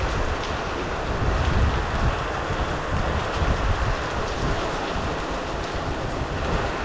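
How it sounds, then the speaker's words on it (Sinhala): Heavy rain pours around Peacock Hill in Pussellawa, Kothmale, Sri Lanka, a dense, steady broadband wash of rain that stays moderately loud and even throughout with no voices. "වටේම වැස්සේ. මරහයියෙන් වහිනවා."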